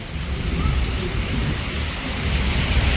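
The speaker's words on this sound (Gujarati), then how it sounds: "તો મિત્રો આ રીતે વરસાદ પડે છે" Rain falling outdoors abroad in Europe, a steady broadband hiss with a low wind-like rumble, continuous and fairly loud, with no talk.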